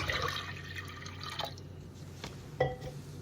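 Water trickles and drips softly as it is poured into a pressure cooker holding toor dal lentils, a faint liquid splash with a brief clink near the end.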